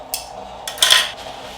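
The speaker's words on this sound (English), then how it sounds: "So these are the spoons that we use for our eggs." Metal egg spoons for a German breakfast are handled, giving three quick, close metallic clinks, the last one the loudest, over a quiet background.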